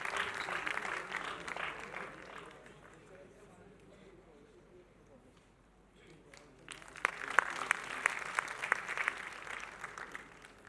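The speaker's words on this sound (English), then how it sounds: "A huge round of applause once again for the Rustamji group." An audience at a college fest applauds in two bursts, a moderate round of clapping that fades to near quiet before a louder, sharper wave returns.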